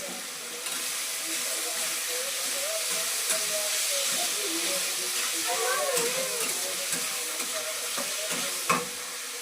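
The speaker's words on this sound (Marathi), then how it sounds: "आपल्या वाफेवरतीच मस्त शिजवून घ्यायचं." Home-cooked food steaming in a pan with a little added water, giving a constant hiss and soft sizzle throughout, with faint stirring clinks, fairly close.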